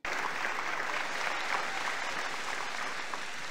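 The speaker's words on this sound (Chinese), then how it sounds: "我希望这个掌声是给你们自己的" Dense, steady audience applause fills a hall at an Atomy business seminar in Taiwan, loud and continuous from start to finish with no one speaking over it.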